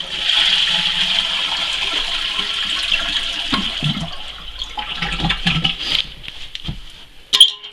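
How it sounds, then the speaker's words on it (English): A camp toilet flushes during plumbing winterization with a steady rush of water that runs for several seconds, then gurgles and trickles as the tank drains, ending with a sharp clunk. "So I'm going to flush the toilet."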